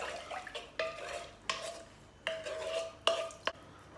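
A frying pan holds leftover sauce loosened with a splash of water while cooking eggplant, and a utensil scrapes and clinks against it in several separate strokes over a quiet simmer, close and with no voices.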